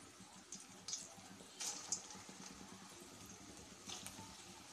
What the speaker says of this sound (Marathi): तर चला आता आपण आपले ब्रेड बॉल्स तळून घेऊया छान